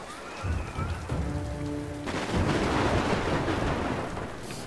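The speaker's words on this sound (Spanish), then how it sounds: "qué tremenda tormenta" A thunderstorm in the video game Tomb Raider, with steady heavy rain hissing loudly throughout and low rumbling thunder beneath, plus a brief tonal game effect early on, with no talk.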